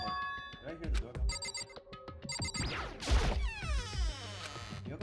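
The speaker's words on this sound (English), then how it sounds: "did I hear the doorbell?" A doorbell rings in the Danganronpa video game, a tonal electronic chime repeating several times over game music and sound effects, with a voice speaking over it.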